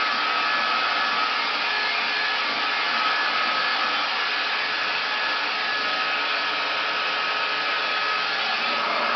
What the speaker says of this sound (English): You blow dry, lifting your hair up and blow drying the roots is what's going to give it volume.